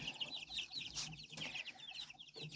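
Many chicks in a brooder peep busily together, a dense chatter of high chirps close by, with a few brief louder knocks.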